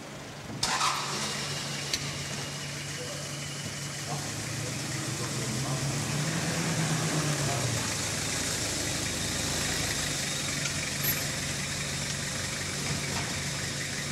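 Service vehicle driving in through an opened gate, its engine running steadily and fairly close throughout with a low rumbling drone.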